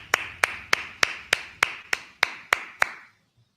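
Ten sharp, evenly spaced hand claps from a congregation at a Sabbath service, unison and fairly close, ending abruptly with no talking over them.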